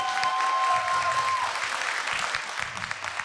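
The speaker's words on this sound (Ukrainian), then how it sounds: "За це Микиті також оплески" Audience applause at a stand-up comedy improv show, dense and steady for about three seconds, then thinning out near the end.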